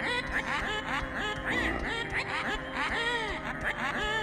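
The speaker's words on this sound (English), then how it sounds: "Notable characters also speak with unique voice grunts instead of just a single uniform text sound." Short character voice grunts from the Paper Mario: The Thousand-Year Door remake, quacky, chattering vocal blips that come in quick repeated bursts over steady game music, loud and close with no talk.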